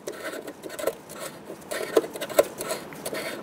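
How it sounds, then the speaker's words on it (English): Lug nuts are threaded by hand onto a wheel of a 2005-2015 Toyota Tacoma during a front brake caliper job, making short rubbing, rasping scrapes with a few small metallic clicks, close and fairly quiet. "Get the lug nuts started by hand."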